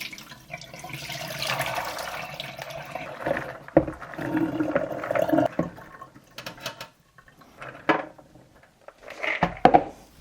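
Soaked legumes being rinsed in a small strainer under running water, a splashing, gurgling stream that swells and breaks off in bursts, with short clatters between pours and no talking.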